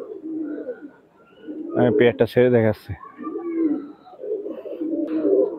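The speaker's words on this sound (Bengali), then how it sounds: "একজোড়া স্কুলওয়ালে গোল্ডেন কবুতর" A pair of Pakistani highflyer pigeons sold as golden school-wale birds coo in a loft, a short run of rhythmic coos rising in the middle while someone talks close by before and after.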